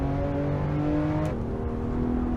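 A race car engine revs hard in Assetto Corsa on the Pikes Peak hill climb, holding a loud steady drone, then dropping sharply in pitch on a gear change partway through.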